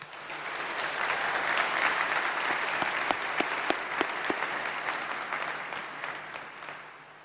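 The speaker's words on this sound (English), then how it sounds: "let's give a huge round of applause, please, to those who have supported you and made all this possible" A graduation ceremony audience applauds in a large hall, a dense, even round of clapping that swells, holds with a few crisp nearby claps, then tapers off toward the end.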